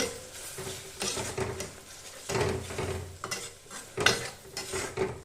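Prawns frying in a pan, an uneven sizzle with frequent stirring and scraping of a utensil against the pan, close up and with no talk.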